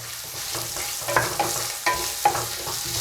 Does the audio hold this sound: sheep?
no